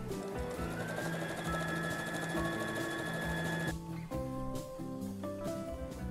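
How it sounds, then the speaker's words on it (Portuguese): A sewing machine runs steadily, stitching a straight seam through fabric with a continuous mechanical whir, then stops and restarts in shorter bursts near the end, with no talking. "Então eu vou para a máquina, passar essa costura"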